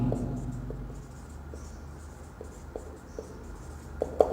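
Pen or pencil writing numbers by hand on paper while solving a school physics motion problem: faint scratching strokes with a few sharper taps, steady and close over a low background hum.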